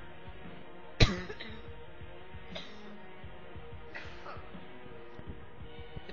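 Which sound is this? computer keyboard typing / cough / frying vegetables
cough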